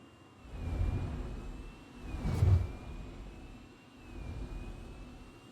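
Spacecraft engines and hydraulic systems in Star Citizen give a low, steady rumbling drone that swells and fades in broad waves, with a faint high whine held across the top.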